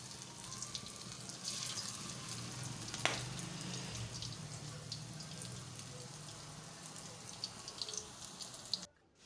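Egg pakora frying in a pan of oil, giving a steady soft sizzle and bubbling crackle throughout, with a brief sharper pop near the middle and the sound cutting off abruptly at the end.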